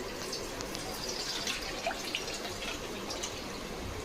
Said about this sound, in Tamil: இப்போது இதுலேயே நம்ம புளி தண்ணி கொஞ்சமாக ஊற்றிக்கலாம்.